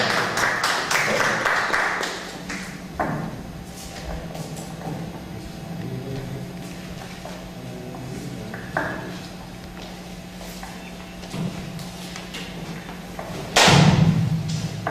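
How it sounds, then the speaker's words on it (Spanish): Audience applause greets Dr. Carrillo at the start of an afternoon lecture, with a dense burst of clapping over the first couple of seconds that fades into scattered thumps and room noise, plus a brief loud swell near the end. "Queremos recibir al doctor Carrillo con fuertes aplausos"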